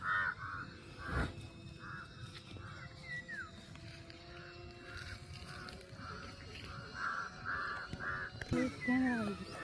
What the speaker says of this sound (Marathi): ते कावळे मागे लागले बघ त्याच्या.